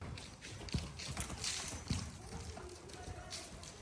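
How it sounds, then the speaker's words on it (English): A green young mare's hooves thud on the ground as she is lunged in an arena, a few soft irregular footfalls among outdoor noise, with faint talk underneath. "Here, my mother is training Ruby in the lunging arena."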